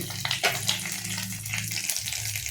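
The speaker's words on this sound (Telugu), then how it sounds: "ఇప్పుడు దీనికి తాలింపు వేసుకుందాం మీరు చూసారా తాలింపుకి వెల్లుల్లి పచ్చి మినప్పప్పు ఎండుమిర్చి జీలకర్ర కొద్ది మెంతులు" Garlic, urad dal, dried red chillies, cumin and fenugreek temper in hot oil for a chutney, giving a steady close sizzle and crackle with a few sharper spatters and no talking.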